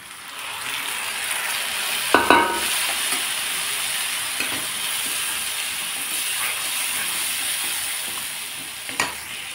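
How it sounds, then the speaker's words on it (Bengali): A pan of masala paste made from onion, tomato, green chili, cumin, coriander and Kashmiri chili powder sizzles and fries steadily, with occasional clinks of a stirring spoon close by. "এখন মশলাটাকে আমি ভালোভাবে কষিয়ে নেব"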